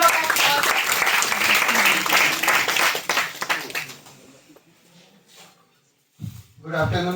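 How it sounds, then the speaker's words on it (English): Audience applause at a university event, a loud burst of many hands clapping that fades out after about four seconds, followed by a brief silence and then a voice speaking. "Give a huge round of applause."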